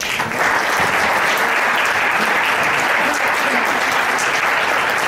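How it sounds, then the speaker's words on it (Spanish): Loud, dense applause fills a panel session at a political party's winter school on electoral law, many hands clapping steadily and close throughout. "Un fuerte aplauso también para él."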